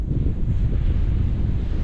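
Strong wind gusts over a foggy, freezing mountain ski field in Victoria, buffeting the microphone with a loud, rumbling low roar that stays constant throughout.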